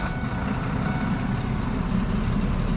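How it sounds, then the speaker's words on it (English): A Ford F750 water truck engine rumbles at a steady idle from inside the cab, a low continuous drone with faint higher whine and no voices. "you gotta put the clutch in to start this truck"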